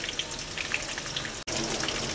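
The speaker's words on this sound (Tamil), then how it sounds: "நெய் நல்லா மெல்ட் ஆகட்டும்." Ghee melting in a pressure cooker gives a faint, steady light sizzle and crackle with a momentary drop near the middle.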